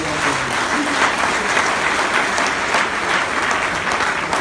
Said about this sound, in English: You give the president a big hand of applause